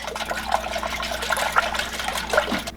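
Milk and eggs are poured into a bowl, giving a steady close liquid splash and trickle that runs without a break, with no talk over it.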